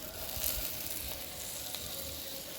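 Crushed ginger sautéing in a pan of frying drumsticks for murungakkai varuval, a soft continuous sizzle and crackle heard close but fairly quiet, with faint stirring movements.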